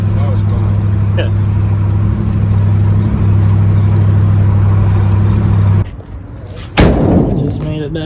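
A Coyote V8-swapped Ford F100 truck drives on a street with a loud, steady low engine drone that suddenly drops away, followed by a sharp thump and a quieter rumble.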